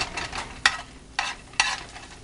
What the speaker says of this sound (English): Garlic browning. Watch that garlic brown.